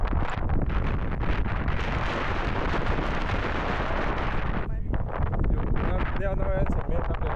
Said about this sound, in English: Can you hear the wind? There is quite a strong wind.